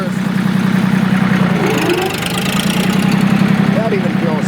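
A Porsche tractor engine runs steadily in first gear, a loud continuous low mechanical drone with a constant throbbing hum and some rattling, close up throughout.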